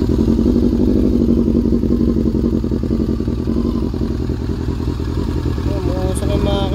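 A Honda CB-1 motorcycle engine, smoking and overheating, runs steadily and loudly throughout, with a rough idling rumble and some rattling clatter, while a person speaks over it.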